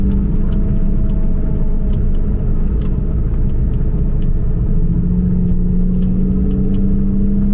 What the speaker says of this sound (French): on entend notamment énormément les pneus qui collent à la route